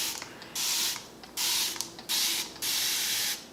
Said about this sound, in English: I like to use a little spray bottle with some water to douse the hair.